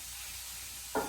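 Chicken fries in oil in a pan for paella, giving a steady soft hiss throughout with a brief louder burst of sizzle near the end, close up and without talk.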